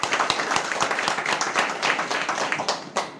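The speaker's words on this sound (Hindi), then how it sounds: "तो जोरदार तालियां बन रही है मेरे" An audience claps together in a hall, a dense, lively patter of many hands that stays even for several seconds before thinning out.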